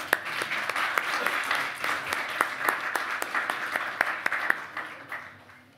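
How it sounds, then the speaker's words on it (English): Audience applause for presenters at a conference session on freedom of religious expression and human dignity, a moderate, fairly distant wash of clapping with sharper individual claps standing out, tapering off at the end. "in giving you a round of applause"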